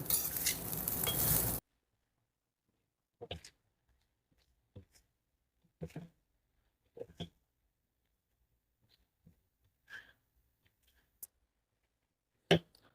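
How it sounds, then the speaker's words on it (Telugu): Urad dal rice being mixed in a pan with a spoon, a short stretch of loud noisy scraping at the start followed by sparse, quiet clinks and scrapes spaced seconds apart. "ఇప్పుడు బాగా కలుపుకుందాం"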